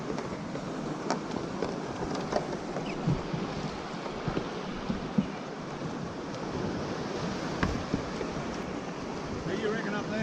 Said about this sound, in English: This is Little Oaky Beach.